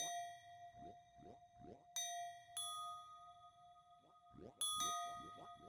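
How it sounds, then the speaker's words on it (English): A series of bright chimes in the video game Tunic after leaving the house, several clear ringing tones of different pitches sounding one after another and sustaining, with quiet footstep-like shuffles in between. "we have to listen to the series of chimes after exiting the house"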